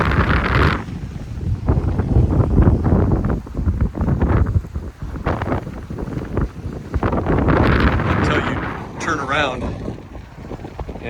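Strong wind buffets the microphone in loud, roaring gusts throughout, with a voice speaking underneath.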